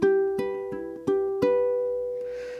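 A ukulele plucks the opening bar of a fingerpicking etude, five evenly spaced picked notes ringing clear and close, with the last note sustaining and decaying alone.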